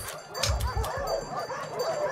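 A cluster of small cartoon puppy yips and barks, fired off in quick succession as a fighting-game super move by Palm in Them's Fightin' Herds, layered over game effects.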